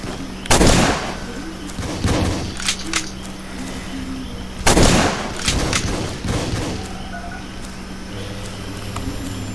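Sniper rifle shots in a Roblox battlefield game: two loud, sharp cracks about four seconds apart, each trailed by rumbling echoes and smaller thuds, with no talking.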